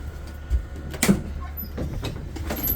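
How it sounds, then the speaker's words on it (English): A school bus door is pulled shut during a pretrip inspection, giving one fairly close mechanical thud and rattle amid a low idling hum and a few softer clunks. "And we're going to close the door"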